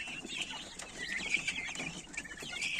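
Several Legbar chickens cluck and murmur continuously nearby, a soft overlapping chatter with no one talking.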